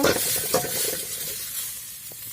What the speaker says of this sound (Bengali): পেঁয়াজ, লাল করে ভেজে নেব।